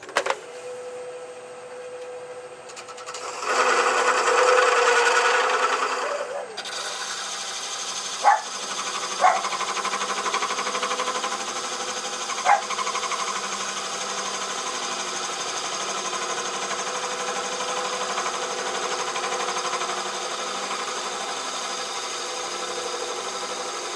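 Metal lathe taking light slicing cuts across a part, a steady motor hum with a louder burst of cutting noise early on and a few sharp clicks, close, no speech.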